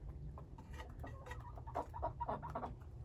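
Black chickens cluck softly in short bursts over a low rumbling background, a few birds close by.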